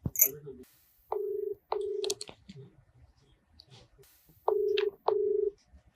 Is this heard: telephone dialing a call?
yes